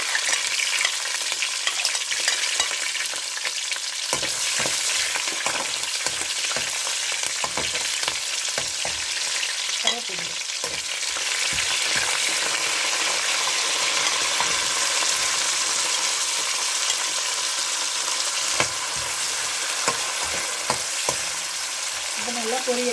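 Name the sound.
green chillies and garlic frying in oil with fennel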